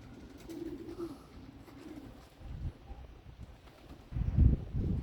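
Racing pigeons on their first flight after release, heard as soft cooing and bird sounds in open air, with wind gusts buffeting the microphone and a louder flutter near the end.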